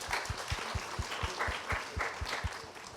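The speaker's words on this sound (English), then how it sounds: "A big round of applause for ma'am." At a garden literary festival session, an audience claps for a speaker, a soft, steady stretch of applause with a few individual claps standing out, close and fairly quiet.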